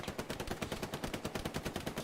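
Rapid automatic gunfire from a rifle in Hell Let Loose during an 18 vs 18 tournament match, a steady run of sharp shots at an even fast rhythm, close and fairly loud with no talk.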